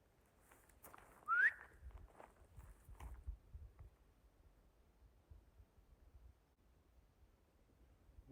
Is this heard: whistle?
yes